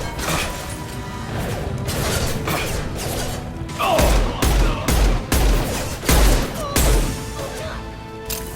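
Rifle fire in the video game Mass Effect 2, loud bursts of rapid shots in a chaotic firefight, the heaviest repeated blasts crowding the second half over a constant rumbling mechanical bed.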